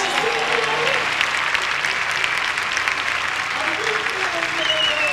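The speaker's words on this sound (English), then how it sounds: "The crowd's fired up" A large crowd at a 1995 water ski tournament applauds and cheers steadily for several seconds, a dense wash of clapping with a commentator's voice faintly underneath.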